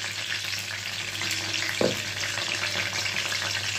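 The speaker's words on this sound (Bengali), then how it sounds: "কাঁচা লঙ্কা এর মধ্যে ফোড়ন দিয়ে দেবো।" Green chillies and spice paste fry in oil, making a continuous close sizzle with a low steady hum underneath and one short clatter partway through, no voices.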